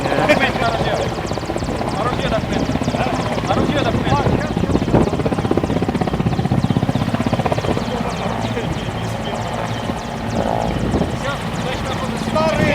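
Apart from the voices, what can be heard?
helicopter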